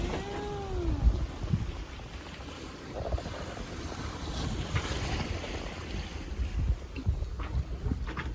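A sailboat moves through waves on San Francisco Bay, with steady wind buffeting the microphone and water washing and splashing against the hull, moderately loud throughout.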